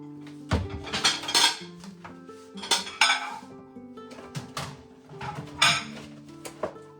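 A tea pot and other dishes are washed by hand, with metal pots, pans and cutlery clanking and clinking in irregular bursts close by.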